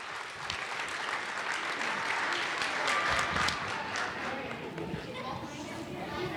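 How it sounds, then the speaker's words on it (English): Audience applause at a 2016 VBS program, a dense steady wash of clapping from a crowd lasting throughout, with some chatter and a voice mixed in. "give them a great round of applause"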